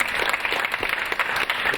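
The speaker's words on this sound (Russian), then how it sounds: "Спектакль заканчивается овациями." An audience applauds at the end of a Tatar theatre play performed in Romania, a dense, steady wash of clapping from a full hall, continuous and fairly loud.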